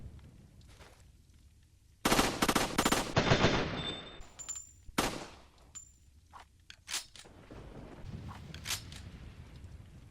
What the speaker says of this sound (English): that is the Heckler & Koch VP70 that Leon always uses in all his games. Alright, let's test this thing out.